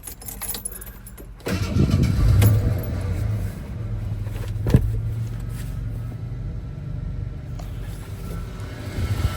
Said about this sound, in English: Okay, so we're gonna turn the engine on.